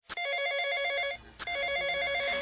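A telephone bell rings in two loud, close bursts of rapid metallic trilling, a short gap between them, with no talk over it.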